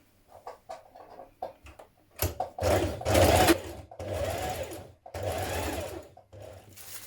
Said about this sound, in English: on the outside of your dress you're going to top stitch 6 millimeters away from the edge